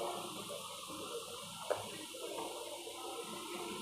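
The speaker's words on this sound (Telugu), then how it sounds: "క్యాబేజీ, ఆనియన్స్ వేసి వీటిని కొంచెం బాగా ఫ్రై చేయాలి." Cabbage and onions frying in a pan give a steady, even sizzle throughout, with one brief light tap partway through.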